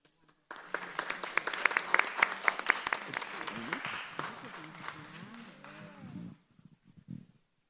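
Applause rises at a city council meeting during an appreciation day proclamation, dense clapping for several seconds, then fading as voices talk over the tail and it stops.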